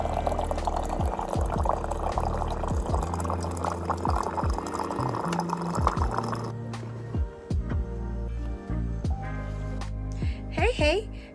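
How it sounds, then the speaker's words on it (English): Hot water poured from a water tower dispenser, a close, steady liquid stream with repeated drips and gurgles, ending in a few short splashes. "hot water from my water tower."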